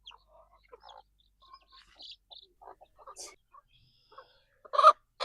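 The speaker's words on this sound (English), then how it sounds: "we're going to go ahead and come in here and get this mama hen and her chicks" A mother hen and her chicks being caught to move into a mobile brooder, scattered soft clucks and chick peeps close by, ending in a louder burst of agitated squawking.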